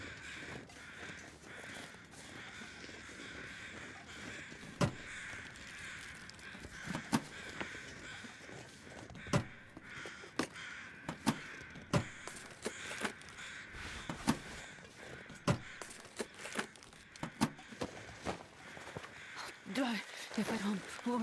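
Crows from the video game Wintermute, cawing again and again throughout, some harsh calls near and others farther off, all over a low ambient bed of game sound.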